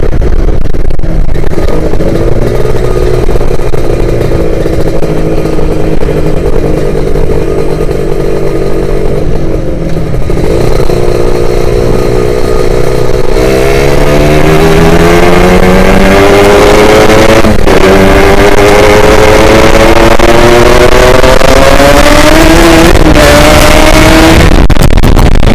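A Kawasaki Ninja motorcycle engine roars loud and close, its droning pitch climbing steadily as it revs hard and surges past, with no talk.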